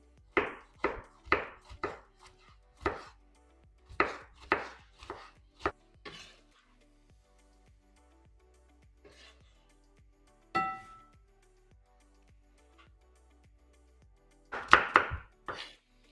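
A knife chops vegetables into thin strips sharply on a board in quick bursts of strokes, with pauses between runs, close and clear with no talk.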